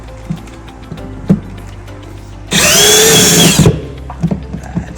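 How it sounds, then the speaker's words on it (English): A power drill cuts from inside a caravan wall, a loud grinding whine lasting about a second, framed by quieter knocks and handling clatter before and after. "Now I'm going to drill the rest from inside."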